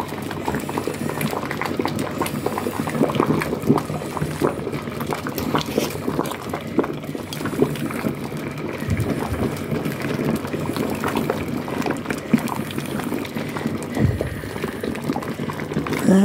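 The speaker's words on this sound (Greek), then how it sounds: "έχουμε βάλει τα λάχανα και βράζουνε." Cabbage leaves boiling in a pot, a steady close bubbling and popping that continues throughout, with irregular louder bursts.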